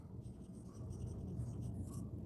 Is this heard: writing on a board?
yes